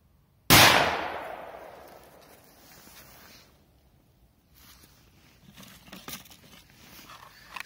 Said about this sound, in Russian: Давайте взрывем вот такие жуки.